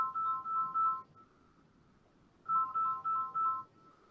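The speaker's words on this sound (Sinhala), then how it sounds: "පොඩි වෙලාවක් දෙන්න මට කෝල් එකක් එනවා." An incoming call sets a mobile phone ringing: two clear groups of quick, tonal beeps separated by a short hush, fairly close and with no voices.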